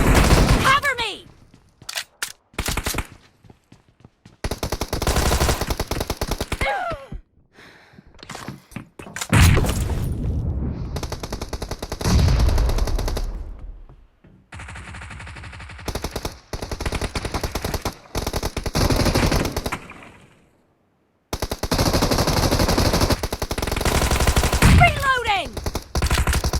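An unsuppressed Thompson submachine gun rattles off loud rapid bursts in a team shooter video game, with short silent gaps between strings of fire and game voice callouts heard at times.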